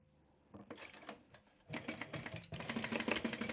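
A sewing machine stitches waterproof canvas lining for a medium boxy pouch, running in rapid mechanical bursts that start and stop, growing louder and steadier toward the end.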